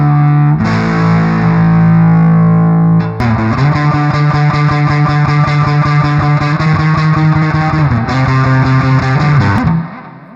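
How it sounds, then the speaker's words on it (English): Heavily fuzzed electric guitar through an amp model in Amplitube 5 plays loud, thick sustained chords and riffs for about ten seconds with no talking. "Now that's the fuzz that I like to hear"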